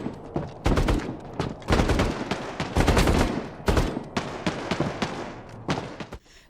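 Gunfire in the VR shooter Bravo Team: heavy bursts of automatic shots in several loud clusters, with single cracks in between and a tapering tail at the end.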